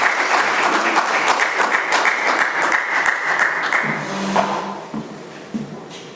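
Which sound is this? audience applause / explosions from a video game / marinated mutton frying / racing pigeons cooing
audience applause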